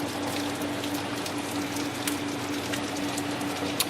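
Heavy rain pours steadily during a Category 1 hurricane in Charleston, heard from indoors behind a window as a dense, even hiss with a faint steady hum and occasional louder drips.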